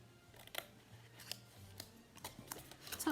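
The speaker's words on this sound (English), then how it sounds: "tuck that one in and trim this one off" Scissors snip through paper sections while trimming a small gift box or festive orb decoration, giving several sharp, close cuts spread irregularly across the moment, with a quiet background and no talking.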